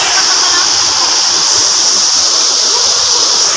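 Rushing water pours loudly and constantly nearby, a dense unbroken roar and hiss with no pauses or changes, filling the whole moment without any voices.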